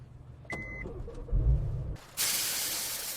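A car engine idles quietly after a coolant flush, then a loud, steady hiss of escaping steam starts abruptly and continues to the end.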